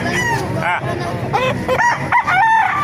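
A bulik gamefowl rooster crows several times in short, ragged calls close by, mixed with clucks and other fowl sounds, while a person speaks in the background.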